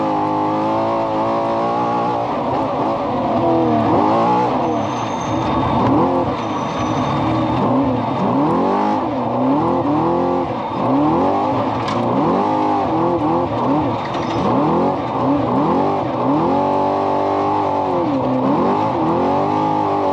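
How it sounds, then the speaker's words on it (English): Trophy truck engines roar off the start line at the 2024 SCORE San Felipe 250 desert race, a loud, close, continuous bellow with repeated rising and falling revs. "this is what it's going to sound like in about 5 seconds when they leave the line to be in a trophy truck"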